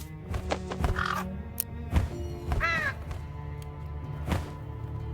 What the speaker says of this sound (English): Crow took the stone in the nest.